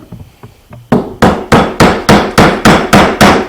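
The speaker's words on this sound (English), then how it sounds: "Tap the maple stick down with the hammer" A hammer taps a maple stick plug down into the end of a homemade garage-built flute: a few soft taps, then about nine sharp, evenly spaced wooden knocks, close and loud, each ringing briefly.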